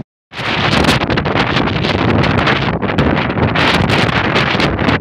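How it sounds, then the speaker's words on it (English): Strong Atlantic coastal wind in Cádiz, Spain, buffets the microphone in a loud, continuous roar with gusty surges, and no voices are heard. "wow, it's pretty windy."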